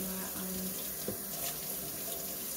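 A cutting board being rinsed under a running kitchen tap, with a steady close stream of water splashing throughout and a soft knock from the board partway through.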